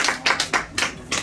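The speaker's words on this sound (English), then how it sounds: "I think this deserves a round of applause myself." A short run of hand claps, about six quick sharp slaps at an even pace, close and alone without talk.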